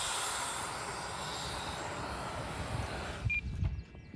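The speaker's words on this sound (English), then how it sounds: "Use the thrust reverse to slow it down and keep her on the runway." A Freewing Eurofighter Typhoon 6S 90mm EDF model jet lands using thrust reverse, its ducted fan whining and roaring at moderate distance before quickly dropping away, leaving faint outdoor noise.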